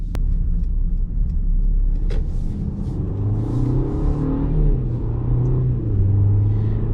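A 2021 Mercedes-Benz GLC drives on the road with a loud, close engine rumble and audible gear changes as it accelerates, with no talking over it.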